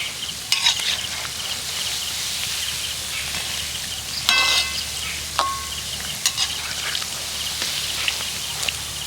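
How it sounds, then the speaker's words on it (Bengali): Goja pastries deep-fry in oil in a kadai, giving a steady close sizzle with scattered crackles and a few sharper pops and stirring clinks. "আমাদের এরকম কড়াইতে তেল দিলে বেশ অনেকগুলোই কিন্তু ভাজা হয়ে যাবে"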